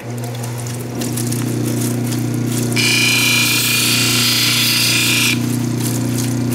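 A 600 grit lapidary wheel grinds a tough cabochon gemstone under plenty of water, a loud steady motor hum joined by a harsh bright grinding rasp that runs for a few seconds and then eases off.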